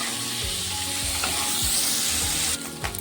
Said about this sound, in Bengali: ফুলকপিটা ভালো করে নেড়ে চেড়ে ভেজে নেব।